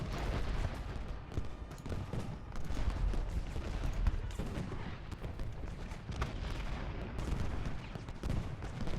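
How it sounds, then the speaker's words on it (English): Dense, continuous booming cannon and gunfire from the Gettysburg battle game Ultimate General: Gettysburg, with rumbling blasts overlapping steadily throughout. "Oh, those are the reinforcement cannons."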